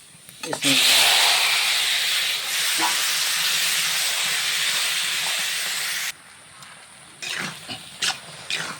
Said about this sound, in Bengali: আমি তরকারিটা ঢেলে দেবো